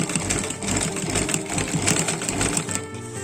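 Sewing machine stitching the border of a jute table mat, a steady rapid mechanical whir with fast needle clatter, close and loud with no talk.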